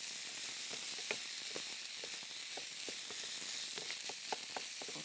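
Garlic sizzling gently in a pan, a soft continuous hiss with frequent light stirring taps and scrapes, close and fairly quiet, no speech.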